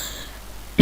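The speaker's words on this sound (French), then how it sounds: "désolé, je tousse." A single short cough bursts out at the very end after a near-silent moment, during MX vs ATV Supercross Encore gameplay.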